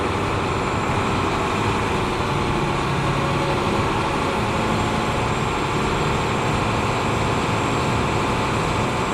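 A truck engine runs steadily to charge its air brake system toward 120 psi, a constant loud droning rumble with broadband hiss, unchanging and with no voices.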